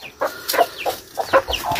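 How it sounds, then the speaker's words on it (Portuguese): Caged chickens and a Carijó rooster cluck in short, irregular bursts at close range on a farm, with no talk over them. "E aqui mais uma gaiola, galo carijó."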